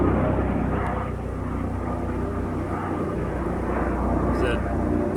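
A medical transport helicopter flies overhead and carries patients to the hospital, giving a loud, steady rotor and engine roar that holds continuously without any talk.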